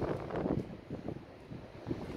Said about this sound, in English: It's very windy at the moment.